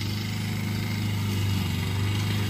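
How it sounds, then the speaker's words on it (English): A self-propelled lawn mower cuts grass on a mound, its engine a steady, loud, continuous drone with no breaks and no voices. "My brother's got one of them fancy self-propel lawn mowers. And he's cutting that mound right now."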